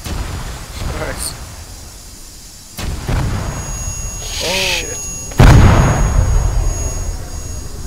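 A heavy, close explosion in ArmA 3 booms with a deep rumbling tail after earlier muffled blasts, while someone talks over radio-like chatter.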